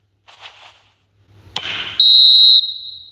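A referee's final whistle in an eFootball video game, a sustained shrill tone that sounds loudly for about half a second, then carries on softer. Crowd noise and a burst of commentary-like sound come before it.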